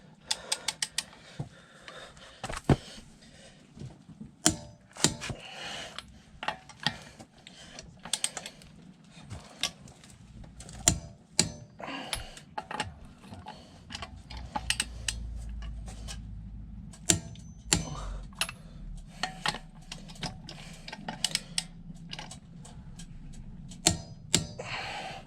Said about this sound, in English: Now what we're gonna do is torque the wheel bolts to 140 Newton meters or